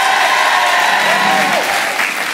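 Studio audience applauding on a French TV game show during an applause-meter vote, a steady dense wash of clapping with crowd noise throughout, loud and continuous.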